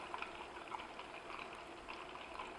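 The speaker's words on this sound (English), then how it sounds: "the foam is disappearing, and now we're just getting a lot of bubbles" Butter bubbles and sizzles softly as it cooks in a saucepan, a faint continuous crackle of small popping bubbles with no voices.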